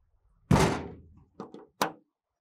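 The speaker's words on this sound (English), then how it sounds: "we can close all the door panels" Door panels on a FlexiROC D60/D65 drill rig swing shut, one loud metallic thunk followed by two shorter, quieter closing knocks, close by with no talking.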